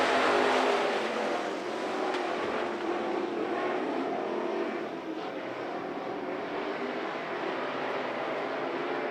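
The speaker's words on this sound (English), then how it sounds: "Single file racing down the backstretch" Race cars circle Monarch Motor Speedway in single file, a steady, fairly distant engine roar that washes along without any break.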